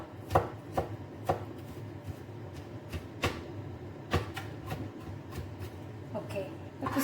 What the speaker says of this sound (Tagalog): Okay, tapos ikakat ko lang siya. Pinuhin ko talaga siya. Parang mince.